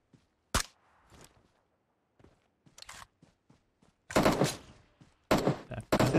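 Gunfire from the PUBG Mobile game: a sharp single shot early, scattered quieter shots and clicks, then two loud sustained bursts of rapid automatic fire near the end.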